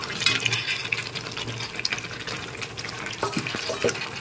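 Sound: chicken pieces stirred into chili chicken sauce in pan

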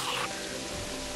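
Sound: rain in the video game Terraria

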